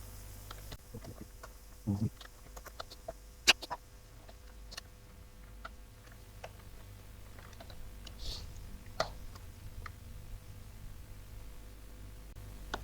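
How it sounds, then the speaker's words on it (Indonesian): Faint, sporadic clicking of computer keys being typed, with scattered louder taps over a quiet room background. "jadi saya akan mengetik lagi ya seperti tadi"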